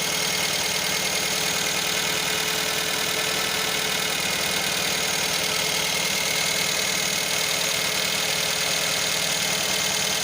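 A 1.6-litre car engine idles steadily and loudly up close, a continuous rough mechanical hum with a faint knocking texture and no pauses.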